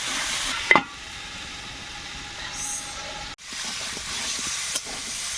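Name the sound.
stir-frying Malabar spinach (pui shak) with turmeric and salt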